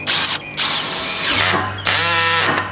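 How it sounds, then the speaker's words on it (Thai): Cordless drill driving a wood screw into smart board, with loud whirring motor bursts separated by short pauses and a final ratcheting run; no talking. "ผมจะใช้สกรูนะครับตัวเจาะไม้นะเจาะลงไปให้ดูนะครับ"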